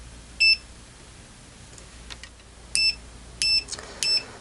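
An OWON CM2100B clamp meter beeps four times during a continuity test: one short tone, a pause, then three beeps at a steady spacing, clear and close over quiet background.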